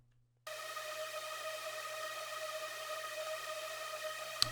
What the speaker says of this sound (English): this is just a saw wave playing with a bunch of voices and a bit of like random white noise